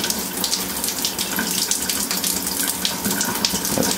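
Water running steadily from a Delta shower faucet, a continuous close hiss and splash of flowing water without pause.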